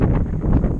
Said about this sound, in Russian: здесь холодный ветер.